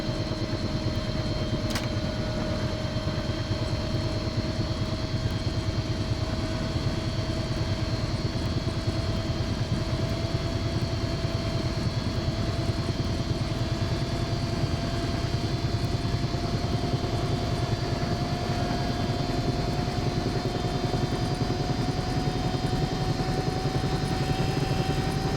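Cowan Sim 222UT helicopter in the X-Plane 11 simulator, its engine and rotor spooling up at throttle opening: a steady turbine whine with a slowly rising pitch over a continuous rotor roar, loud and unbroken, with no voices.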